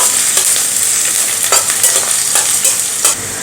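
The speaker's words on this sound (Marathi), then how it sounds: "कांदा चांगला गुलाबी रंग येईपर्यंत आपल्याला परतून घ्यायचा आहे" Sliced onion with two dried red chillies stir-fried in a hot pan gives a loud, close, continuous sizzle, with spatula scrapes and stirring bursts breaking through the hiss at irregular intervals.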